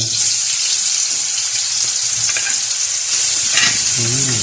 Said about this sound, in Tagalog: So yung bacon muna mga ka-Shepoy, nalagay natin